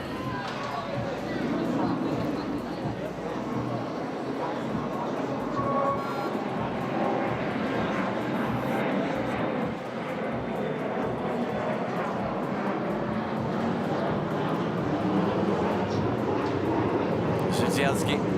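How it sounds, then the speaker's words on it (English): Airplane engine roar from an aircraft near an airport at an outdoor shooting event, a steady loud rumble that holds throughout, with talk over it. "Try to eliminate the airplane noise. The airport's just nearby."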